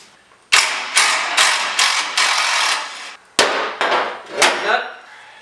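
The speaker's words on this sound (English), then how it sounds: "Got a crescent or a wrench right underneath it, holding the one so it doesn't spin." A wrench loosening a front bumper bolt on a Jeep CJ7, heard as a run of loud, harsh metallic bursts up close, each lasting about half a second with brief pauses between.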